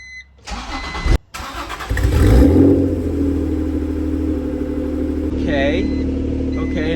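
A Honda NSX with a test pipe exhaust cold-starts close by: the starter cranks briefly, then the engine catches with a loud rumbling roar and settles into a steady, throaty high idle.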